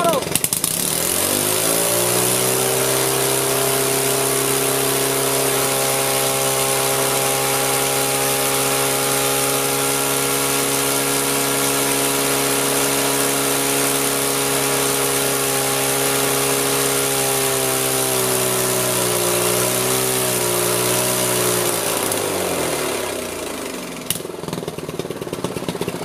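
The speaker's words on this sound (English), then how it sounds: "here goes my second attempt to blow up our Briggs & Stratton on nitromethane" A Briggs & Stratton small engine running on nitromethane at full throttle, a loud, close, sustained buzzing roar that holds steady, wavers slightly near the end, then cuts out abruptly.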